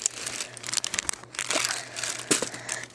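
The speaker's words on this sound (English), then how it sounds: "So they got this little crinkle tunnel by Super Pet. It makes lots of sound" A Super Pet polka-dot crinkle tunnel, a pet toy, gets handled and crushed. It gives loud, continuous crinkling and rustling close by, with irregular bursts of crackle and no talking.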